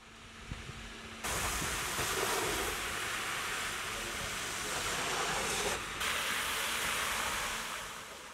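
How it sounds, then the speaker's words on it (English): Water jets spray the underside of a 2017 Volkswagen Crafter van at an underbody wash, a loud, steady hiss of rushing water that starts abruptly after a quiet second and holds for about seven seconds before easing off. "A bigger challenge was when they turned on the water jets, which we had to avoid."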